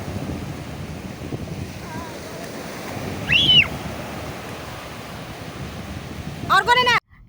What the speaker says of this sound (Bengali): জল টান পড়ছে